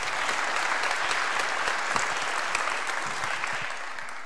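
Applause from a graduation ceremony audience at Cape Cod Church, a thick, sustained wash of many hands clapping at once, loud and even from start to finish.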